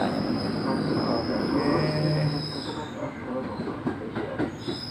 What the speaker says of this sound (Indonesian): Nah, ini kita masih di posisi di KRL, komuter lain.